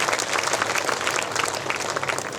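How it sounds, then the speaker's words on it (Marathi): Loud, dense applause from a gathered crowd welcoming a guest at an event, continuous clapping filling the whole stretch without pause. "राहुल दादांसाठी परत जोरदार टाळ्या वाजवून स्वागत करायचं आहे"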